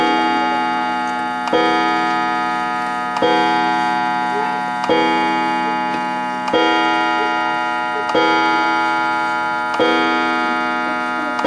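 A Smiths Enfield 8-day oak mantel clock from around 1930 gives sharp, evenly spaced clicks roughly every second and a half, close and clear over a steady ringing hum, with no talking.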